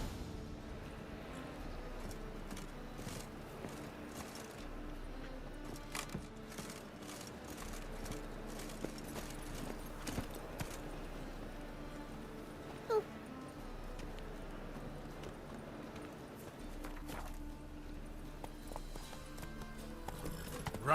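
The horse Roach gallops in The Witcher 3 video game, its hooves drumming in a continuous rhythmic clatter at moderate loudness over game ambience, with no talk.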